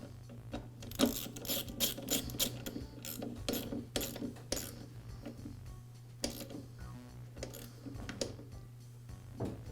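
Repeated ratcheting clicks from a wrench tightening the mow ball bolt on a Husqvarna walk-behind trimmer, in close, uneven bursts over a steady low hum.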